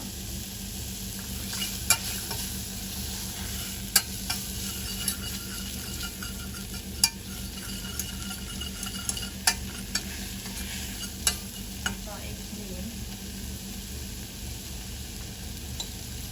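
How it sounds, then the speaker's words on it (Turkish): Food sautéing in a pan makes a steady sizzle throughout, with sharp spoon taps and clicks against the pan at irregular intervals as it is stirred, close and alone with no voices. "biraz böyle de kavurup içine karabiber ekleyeceğim"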